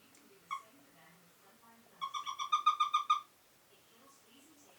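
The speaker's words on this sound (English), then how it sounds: "It's a toad." A toad calls in a quick trill of about eight rapid pulses, preceded by a single short note, against a quiet background.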